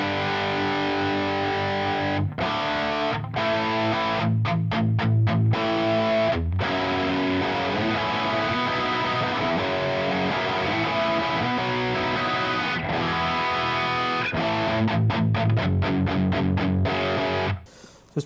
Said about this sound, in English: I'm using the Line6 2204 mod amp with the Kali V30 4x12 cab and the 160 ribbon mic.